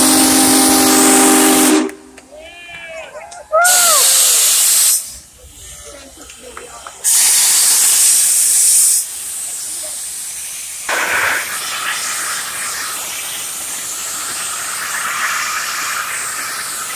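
The Union Pacific Big Boy 4014 steam locomotive in Salt Lake City, Utah, sounds loud whistle blasts in bursts, and a roaring hiss of steam follows while onlookers cheer and shout between the blasts.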